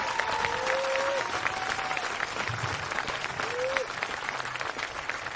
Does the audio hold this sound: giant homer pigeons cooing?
no